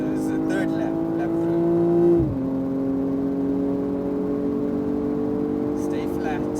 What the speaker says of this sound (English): Now you can start accelerating